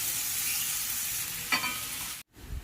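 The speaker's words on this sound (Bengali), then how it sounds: "এখন আমি এই সবজিগুলি একটা একটা করে ভেজে নেব।" Potatoes frying in hot white oil while making semolina upma, a bright steady sizzle with a short scraping stir partway through, then a sudden cut before the hiss returns more faintly.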